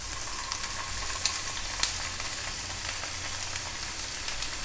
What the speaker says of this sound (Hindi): अपने पनीर के टुकड़ों को थोड़ा सा सॉटे कर लेंगे